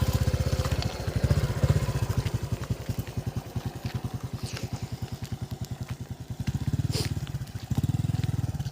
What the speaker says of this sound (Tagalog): dito natin iwan yung motor